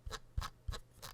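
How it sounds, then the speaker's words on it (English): Scroll wheel of a Hati S computer mouse rolled in four short strokes, each a soft burst of fine ratcheting ticks, close and quiet with no speech. "Scroll wheel."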